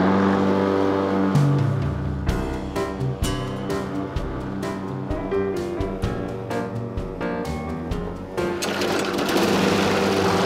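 A lawn mower drones through a garden mowing, its engine note wavering and sputtering continuously under scattered sharp clattering, steady and moderately loud, with no talk.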